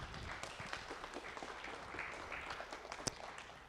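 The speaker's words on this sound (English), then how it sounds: "let's give him another round of applause." Crowd applause for second-place winner Landon Kuhn at a university pitch competition, a soft, fairly distant patter of clapping with one sharper clap near the end.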